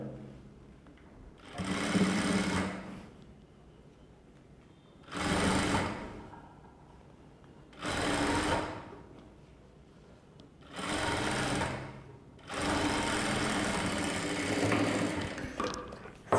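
A sewing machine stitches puff sleeve frills in five separate bursts of rapid whirring, each lasting one to two seconds with quiet gaps between them, close and loud with no voices.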